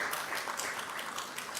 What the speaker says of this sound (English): You can clap for that, you can clap for that.